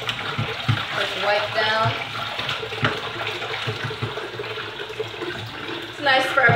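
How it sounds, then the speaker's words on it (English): Potatoes rinsed under a running kitchen tap, a steady splashing water stream close by with brief louder bursts, while a person speaks briefly over it. "And I'm just gonna put the potatoes on with a quick rinse."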